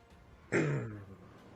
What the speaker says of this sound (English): Sorry for the bit of coughing.